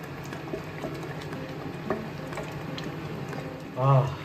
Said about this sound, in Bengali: পালং শাকের পিউরিটা ফুটে উঠেছে, এবারে পনিরগুলো দিয়ে দিচ্ছি